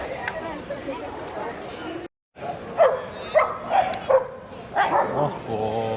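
Dogs, including German Shepherds, bark and yip at a free dog park in Cubbon Park, Bangalore, with several sharp close barks in quick bursts among people talking.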